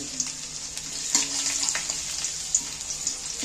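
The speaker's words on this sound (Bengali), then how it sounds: "রসুনগুলো তেলের মধ্যে দিয়ে দিচ্ছি। আদাও গোটা সরু করে কেটে নিয়েছি।" Whole peeled garlic cloves and thinly sliced ginger fry in hot oil, a soft steady sizzle with occasional spits and a few light clinks, heard alone without speech.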